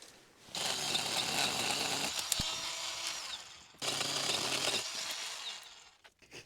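A chainsaw cutting through a vine-covered log from an old fence line, revving loudly in two long bursts, with a brief sharp metallic tick as the chain strikes embedded wire, then dropping back toward idle.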